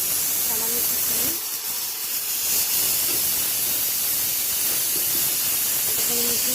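Pressure cooker hissing steam while rice cooks, a steady, loud broadband hiss that runs throughout with little change, and faint voices underneath.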